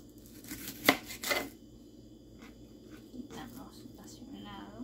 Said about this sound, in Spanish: la procedemos a picarla en pedazos pequeños